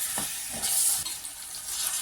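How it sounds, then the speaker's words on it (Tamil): Boiled chickpeas sizzle as they are stirred in a hot pan for a chickpea curry, a loud, steady frying hiss with scraping stirs. "அவிச்சு வச்சுருக்க கொண்டக்கடலையும் சேர்த்து வணக்கி விட்டுட்டு"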